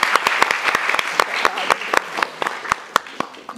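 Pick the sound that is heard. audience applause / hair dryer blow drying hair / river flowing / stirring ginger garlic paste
audience applause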